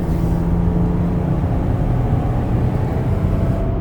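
A 2012 Dodge Caravan SE wheelchair-accessible mobility van accelerates toward highway speed, giving a steady, loud engine and road drone with low tonal hum and tire roar throughout, heard from inside the cabin.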